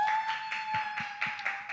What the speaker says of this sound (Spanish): el aplauso de nueva cuenta para Osi Quiroz